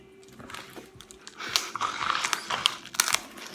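Plastic ramen packet crinkling and crunching as it is cut open up close, a run of crisp rustles and snips that grow busier partway through, with no talk.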